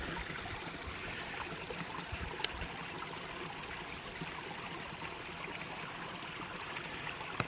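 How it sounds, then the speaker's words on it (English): Creek water rushes steadily over leaves and rocks in a forest, a continuous close wash of flowing water with no voices. "the water rushing over the leaves and the rocks"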